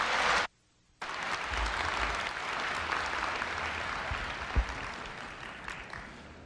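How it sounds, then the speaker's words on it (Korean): A large audience at a Korea University freshman entrance ceremony bursts into sustained applause for the university president, a dense, steady wash of clapping after a brief pause, loud and continuous. "염재호 총장님을 뜨거운 박수로 맞이해 주시기 바랍니다"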